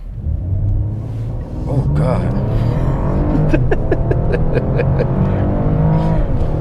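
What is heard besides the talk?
Mercedes-Benz E450 All-Terrain brake-boost launch acceleration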